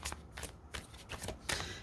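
A deck of tarot cards is shuffled by hand during a reading, giving repeated papery riffling bursts in quick succession, close and fairly quiet, with no talking.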